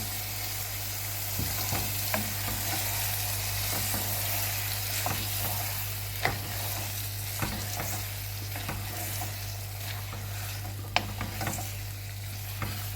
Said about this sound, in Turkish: Soğanlarla birlikte ciğerimizi kavuralım.